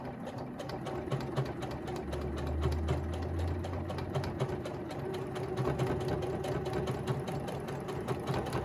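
Sewing machine with a quilt binder attachment stitching binding onto a quilt, a steady continuous mechanical whir and rapid needle clatter running throughout at close range.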